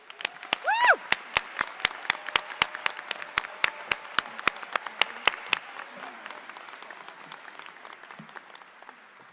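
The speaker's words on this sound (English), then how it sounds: "Let's take a moment and give them a giant round of applause" An audience at a veterinary college white coat ceremony applauds. Sharp, distinct claps ring out in a quick, lively rhythm, with a brief whoop near the start, then fade and thin out toward the end.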